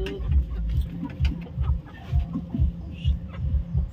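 Backyard chickens cluck around a newly built nest, short clucks coming in an irregular rhythm, close and moderately loud, with faint low background noise.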